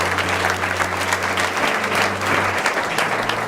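A wedding crowd gives another round of applause, dense sustained clapping from many hands over a low steady hum, loud and continuous throughout.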